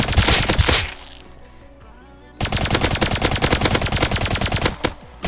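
Rapid automatic fire from an MP5 fitted with a simple sight suppressor in the game Rust, loud and close, in two dense bursts separated by a short lull with ringing tail.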